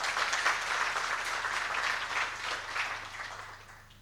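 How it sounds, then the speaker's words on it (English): Moderate audience applause at a talk on the cost of a healthy diet, a soft continuous patter of clapping that thins out and fades toward the end. "I think he deserves a better clap than that"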